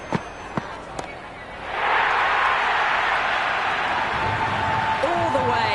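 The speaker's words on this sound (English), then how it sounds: "The crowd are loving every minute of this match." A cricket stadium crowd at a women's T20 league final between Delhi Capitals and Royal Challengers Bangalore roars after a six, a broad steady wall of cheering that swells up after a few faint thuds and holds loud, with a commentator talking over it.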